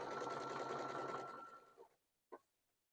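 A sewing machine stitches a zigzag appliqué stitch in a fast, steady whir for nearly two seconds, then stops, followed by a short mechanical clack. It is close and quiet, with no voices.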